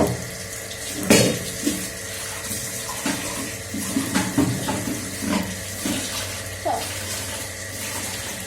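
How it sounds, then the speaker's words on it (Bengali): Water splashes and runs as a spice bowl is rinsed at a kitchen sink beside a gas stove, with a few short clatters and bumps of the bowl over steady running water. "মশলা বাটিতে একটু জলটা দিয়ে দেবো, সঙ্গে সঙ্গে ধুয়ে নেবো আর কি"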